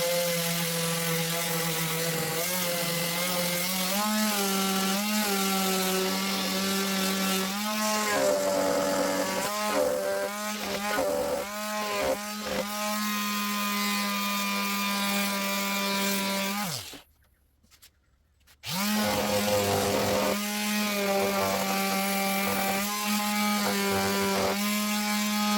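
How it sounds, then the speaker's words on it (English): An electric power sander runs on a wooden window frame, a steady loud buzzing hum with shifting tone as pressure varies, cutting out briefly for about two seconds before restarting, with no talking. "Let's sand it."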